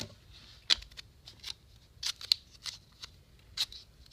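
Scissors cutting a thin strip of material for a mask armature, a few short crisp snips spaced irregularly, close and fairly quiet with no talking.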